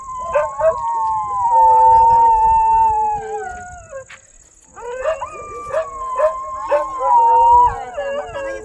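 Several dogs howl together, loud and close, in long wavering wails that pause briefly and then rise again.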